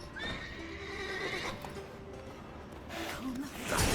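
Horses whinny repeatedly with rising, shrill neighs, hoof clops and background game ambience beneath them in The Witcher 3: Wild Hunt, louder toward the end.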